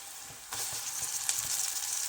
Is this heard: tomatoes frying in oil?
yes